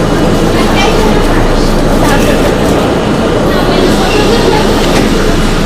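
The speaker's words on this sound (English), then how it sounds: "this is the oldest train on the whole subway system" An old Budd R32 C subway train rides the 8th Avenue Line with a loud, continuous roar and rumble of wheels and motors from inside the car, no voices standing out.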